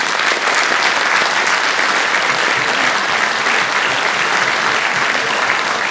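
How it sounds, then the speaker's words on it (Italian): Steady, full applause from a crowd at a mayoral election campaign event in Civitavecchia, many hands clapping evenly without pause. "Io dedicherei a loro un grande applauso"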